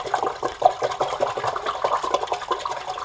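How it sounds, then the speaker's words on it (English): Kale sprouts swished and wiggled in water, a steady close sloshing and splashing that churns continuously without pause. "I'm going to wiggle it in the water. I'm going to swish it around."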